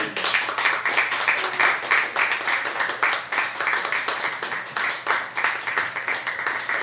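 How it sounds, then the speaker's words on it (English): Sustained audience applause fills the room after a poetry reading at a Writing Knights event at the Outpost, dense and steady clapping from a crowd throughout with no break. "Give her another round of applause"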